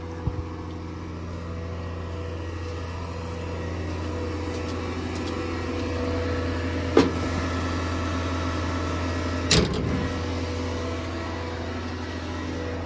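Heavy farm machinery runs at a steady low idle while maize is loaded into a brand-new mixer wagon with tractors nearby, broken by two short sharp clanks.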